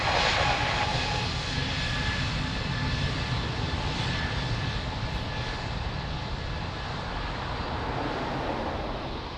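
An airliner takes off from a runway at Lisbon Airport, its engines roaring loud and steady throughout with a broad, rushing jet wash that fades only slightly toward the end.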